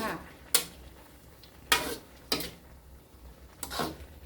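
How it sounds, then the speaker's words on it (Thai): Tilapia stir-fried in a pan with light soy, oyster and green-cap seasoning sauces and eggplant, Thai spicy stir-fry style: four sharp scraping, sizzling strokes at irregular intervals over a quiet background hiss. "ผัดทุกอย่างคลุกเคล้าให้เข้ากันค่ะ"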